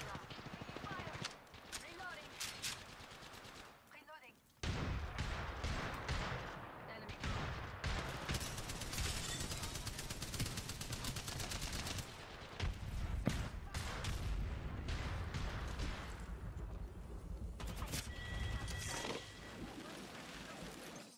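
Dense gunfire rattles through a shooter video game match, sustained bursts and rapid shots over busy game noise with a voice talking at times.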